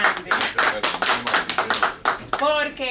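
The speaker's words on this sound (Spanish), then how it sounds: "nosotros debemos dar las gracias y un aplauso a Alberto, muy grande," A small group on a TV program gives quick, uneven applause for a guest, a few close claps in an irregular rhythm with some voice mixed in, ending in a brief tonal sound.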